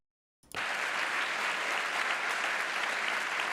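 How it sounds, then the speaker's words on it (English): Sustained audience applause erupts after a brief silence and holds steady at a dense, even level, loud and close, with no talk over it. "all of these baboons clapping"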